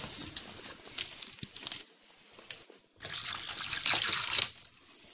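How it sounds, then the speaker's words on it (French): Water poured from a bottle into a plaster mix for a homemade nest, intermittent trickles and splashes, then a louder steady pouring stream near the end. "on rajoute de l'eau"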